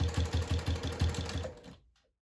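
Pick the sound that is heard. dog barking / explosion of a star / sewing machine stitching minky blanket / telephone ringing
sewing machine stitching minky blanket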